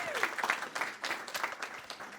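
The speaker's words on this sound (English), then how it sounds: "please, round of applause to everybody" An audience at a design panel discussion claps briefly for the panelists, a short, dense patter of hands at moderate volume with no cheering.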